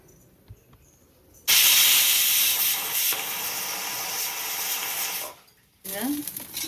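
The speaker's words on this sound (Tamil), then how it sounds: "இப்போ நான் விசில் விட்டு எடுத்தாச்சு." Steam blasts from a pressure cooker as its whistle weight is lifted for release after cooking sambar rice in a one-pot meal: a loud, steady hiss alone for about four seconds, then cutting out before a brief sound at the end.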